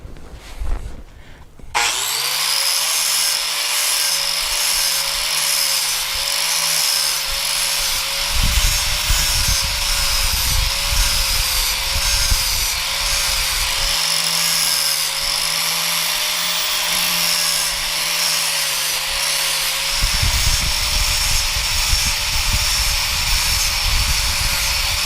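Flap wheel grinding metal during a car restoration, a loud continuous high whine with a steady droning tone lasting over twenty seconds after a brief start, close up with slight variations in pitch as pressure changes.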